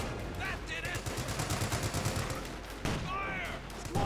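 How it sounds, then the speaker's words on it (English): Light machine gun fire in Company of Heroes 2, rapid bursts of automatic gunfire crackling continuously amid battlefield noise, with a few brief whistling sounds in between. "They're arriving already there with tons of light machine guns to make things miserable."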